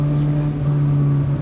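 A 2024 Suzuki GSX-S1000GT motorcycle engine drones steadily on the move, a brief quick-shifter gear change breaking the tone, with wind rush around it.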